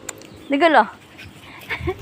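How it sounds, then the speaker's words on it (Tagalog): A dog gives a short rising whimpering yelp in the middle, with people talking briefly around it in an outdoor yard. "Ang kulit ng aso to."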